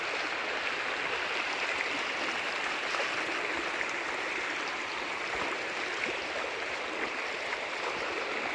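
A large floodwater river rushes through a village in Cilapar during December flooding. The broadband roar is continuous and steady, close and fairly loud, with no talk over it.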